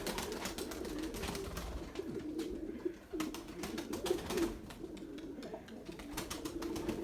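Pigeons coo in low, repeated murmurs amid light rustling and background noise, moderately near and fairly quiet.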